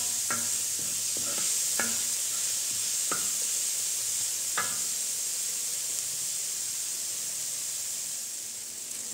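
Half a bell pepper and a tomato fry in a pan on a farmhouse cooking disc, a soft steady sizzle and hiss broken by a few sharp scraping stirs early on, close and with no talk.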